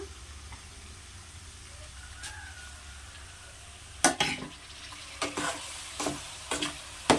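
Ivy gourd with added tomato fries in a pan, a soft steady sizzle under a series of sharp scraping stirs and clinks of the spoon against the pan.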